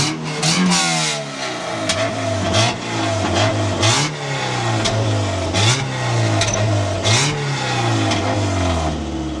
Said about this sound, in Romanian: Băi, se aude super bine evacuarea